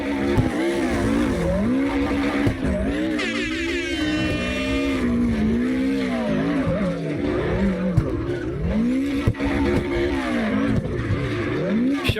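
Subaru cars drift in the racing game CarX Drift Racing Online with loud, continuous tire squeals over revving engines whose pitch swoops up and down, sometimes overlapping.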